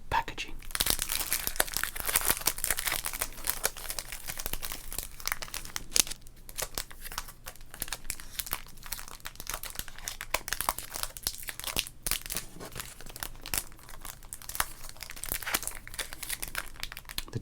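Tamper-proof packaging of 1988 Donruss sports cards crinkles and crackles up close, continuous and fairly quiet, with some tearing sounds and soft speech underneath.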